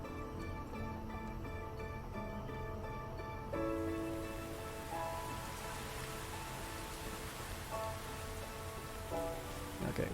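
Soft, steady rain patters in the video game Phantom Brigade, faint and even beneath quiet tonal game music notes, with no voices.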